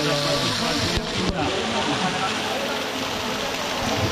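Steady rushing water of the Alumu waterfall in the forest, a dense continuous roar heard up close with a couple of brief knocks near the start.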